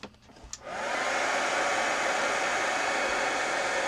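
Heat gun blowing hot air for craft work with distress oxide inks, switching on after a brief click and settling into a loud, steady rushing hiss that continues to the end.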